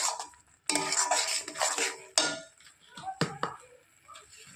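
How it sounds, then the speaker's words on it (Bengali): Metal spoon scraping and clinking in a pan as spices are stirred and fried together for a bata fish curry with coriander powder, cumin powder and mustard, in irregular bursts of scrapes with short pauses and a few sharp taps. "সমস্ত মশলা দিয়ে একসাথে কষিয়ে নেব।"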